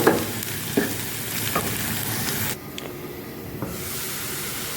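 Onions frying in a pan, a steady loud sizzle and hiss with occasional stirring clicks, briefly quieter partway through, with no talking.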